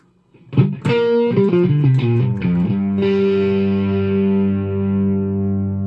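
An electric guitar through a Super Reverb amp model on a Tonex pedal, with lush reverb, plays a short run of single notes, then lets a full chord ring out and sustain.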